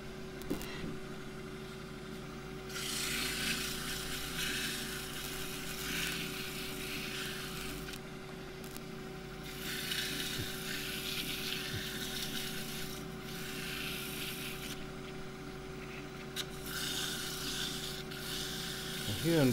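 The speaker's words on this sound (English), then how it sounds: "And I will sand with some 180 grit." 180-grit abrasive rasps against a Huon Pine box spinning on a wood lathe, a steady motor hum underneath and bursts of gritty sanding that start and stop several times, close and moderately loud.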